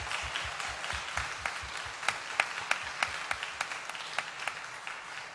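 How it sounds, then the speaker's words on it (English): An audience at a summer arts camp claps for the volunteers in a steady, scattered round of many individual handclaps. The sound is fairly faint and carries on evenly without talk over it. "Would you give them a round of applause?"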